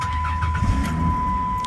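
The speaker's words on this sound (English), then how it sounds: "I'm gonna go ahead and just start her up for you." A car engine starting up, preceded by faint clicks of keys, with a low rumbling idle filling the interior; the car has a lit check engine light and a catalytic converter problem.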